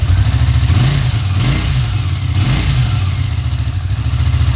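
Honda CX500B motorcycle engine revving, a loud close rumbling throb that rises and falls through a couple of throttle blips, no talking.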